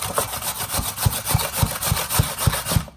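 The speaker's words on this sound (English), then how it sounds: "It's simply we just grate a little bit on the coarse side of it" Raw potatoes rubbed on the coarse side of a grater for fritters, making a rhythmic rasping scrape at a steady back-and-forth pace, close and fairly loud, with about ten strokes in quick succession.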